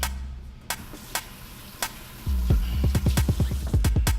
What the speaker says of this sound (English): We're just going to mix this around in here real good.